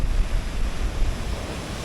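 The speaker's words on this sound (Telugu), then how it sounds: "ఇదే మనకు సముద్రము." Sea waves roll in at Kovalam beach in Kerala, a steady low rumble of surf mixed with buffeting wind on the microphone, continuous and fairly loud with no voices.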